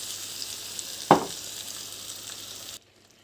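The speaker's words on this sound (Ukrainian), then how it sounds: "додаємо водичку. І воно тушиться 5 хвилин" Steady broadband sizzle of frozen dumplings frying in a hot oiled pan, with a brief louder burst of crackling partway through before the sound cuts off.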